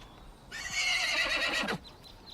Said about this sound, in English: I left you with well-fed and healthy horses, Ballard, and I want them back that way.